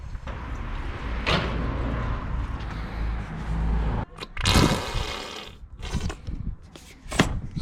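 A bike being washed down with water after lockdown: bursts of rushing spray and splashing come in uneven gusts, with short whooshing surges and pauses between them. No talk.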